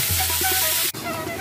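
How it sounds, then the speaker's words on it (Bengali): Masala spice paste frying in a little oil in a kadai gives a close, continuous sizzle with a low hum beneath, broken by a brief dip before the hiss resumes. "এবার মশলাটাকে আমি ভাজবো।"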